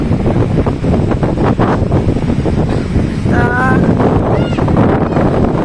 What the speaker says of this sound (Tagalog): Ayan ang ulan. Ayan, malakas. Pero may hangin